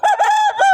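A rooster crows loudly and close by, one long strained call with a rising and falling pitch and no other sounds around it.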